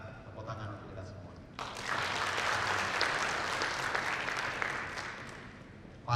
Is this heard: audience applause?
yes